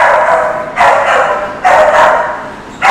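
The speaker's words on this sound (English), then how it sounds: "Good looking dog." A pit bull and Australian cattle dog mix barks three times at a shelter adoption event, each bark loud and close with short gaps between them.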